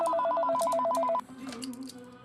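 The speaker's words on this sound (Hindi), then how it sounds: "मिस्टर चीफ का फोन है, आपसे बात करनी है।" A telephone at a police station rings with a fast warbling electronic trill, loud and close, then cuts off as background voices continue.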